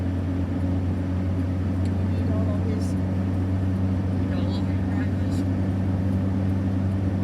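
A car driving on the M6 motorway among lorries, a steady deep droning hum of engine and road noise from inside the cabin, continuous, with a voice talking over it at times.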